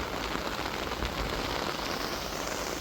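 Heavy rain pours down steadily as a dense, even hiss of drops hitting surfaces, loud and unbroken, with no voices over it.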